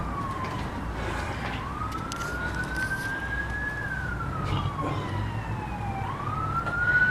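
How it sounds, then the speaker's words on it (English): An emergency siren wails at a distance, its tone sweeping slowly up and down in long cycles over low background rumble, growing slightly louder toward the end. "We can hear sirens."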